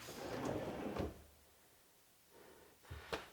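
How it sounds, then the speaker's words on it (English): A drawer box is pushed onto Blum Tandem soft-close undermount glides, a muffled sliding rumble followed by quiet thumps and a small click as it seats, faint and close in a quiet room. "Set your drawer on top and reach down here and just push it till it clicks."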